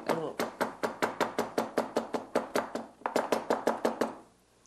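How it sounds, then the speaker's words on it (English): Quick, evenly spaced knife chops hit a cutting board, about twenty crisp strokes in a steady rhythm with a brief pause before the last run. "That's a great chopping movement. I like the sound of it also."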